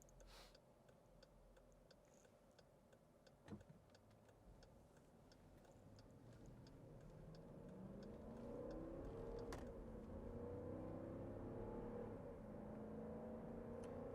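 A 2015 Jeep Grand Cherokee Summit 4WD with a V8 accelerates from inside the cabin, its engine drone rising steadily in pitch and loudness, while a turn-signal ticks in a regular rhythm throughout.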